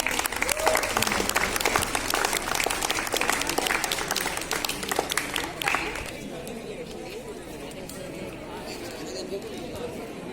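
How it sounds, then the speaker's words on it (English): An audience at an intra-college poster and prototype competition gives a burst of applause with chatter mixed in. The dense clapping is loud for about six seconds, then thins out into quieter crowd murmur. "A big clap."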